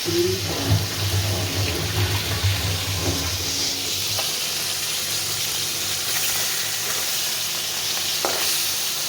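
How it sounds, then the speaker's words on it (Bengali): A hilsa fish head sizzles in hot oil in a pan, a steady close hiss with stirring scrapes and clinks scattered through it, louder in the first second. "মাথাটা একটু ভেজে নেবো"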